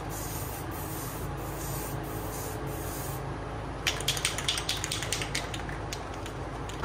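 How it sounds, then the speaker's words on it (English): Cheap black paint sprayed from an aerosol can inside a small jon boat storage compartment; steady hissing bursts, with sharper spurts in the second half. "Let's get to spraying."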